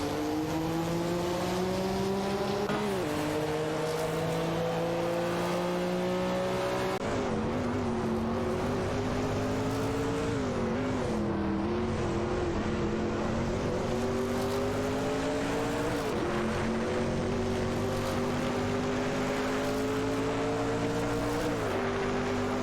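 Several race cars hold high speed in a continuous engine drone, pitch rising and dipping through gear changes and corners, loud and steady throughout.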